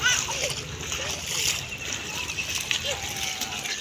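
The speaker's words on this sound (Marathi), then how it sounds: "पाणी खळखळ आवाज येत असेल तुम्हाला." Water splashes and gurgles close by in a village setting, a steady churning wash with small irregular splashes, partly under the voices of children talking.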